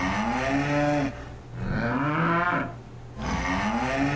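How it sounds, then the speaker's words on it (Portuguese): Cattle mooing, a sequence of three long, loud, drawn-out lowing calls one after another, close and clear with short gaps between them and no talking. "fica mugindo aí"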